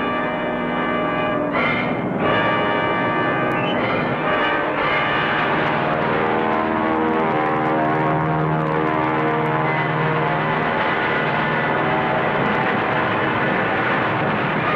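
World War II enemy propeller aircraft from Bonis and Buka airfields on northern Bougainville drone loudly and continuously, a dense, throbbing multi-engine roar that holds steady throughout.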